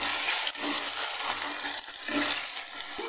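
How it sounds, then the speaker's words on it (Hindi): Potato pieces frying in a pan for aloo matar nimona, a steady crackling sizzle broken by a few stirring scrapes and shuffles, close up with no speech. "अच्छे से फ्राई कर लेंगे।"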